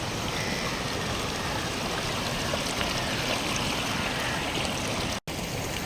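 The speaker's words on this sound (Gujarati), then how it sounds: "ખડખડ પાણીનો અવાજ પણ કેટલો સરસ મજાનો" Steady rushing, gurgling stream water at Dev Ghat waterfall in Umarpada near Surat, Gujarat, fills the whole clip as a dense, constant wash of flowing water, close and even, with a brief dropout near the end.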